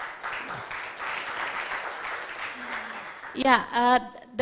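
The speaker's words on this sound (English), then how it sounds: "give applause to this" Steady applause from the audience at an English debating competition final, a broad clatter of clapping lasting several seconds, then a voice cuts in near the end.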